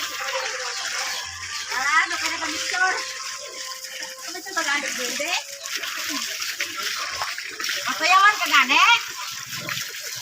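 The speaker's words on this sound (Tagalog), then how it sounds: "Libre tubig." Free-flowing water runs and splashes in a rural Philippine province, a steady gushing stream with people talking over it.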